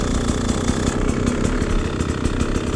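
A Beta 250RR two-stroke dirt bike fitted with a Lectron carburetor idles steadily at a raised, lean-tuned speed, a close, continuous throbbing engine note with no talk over it.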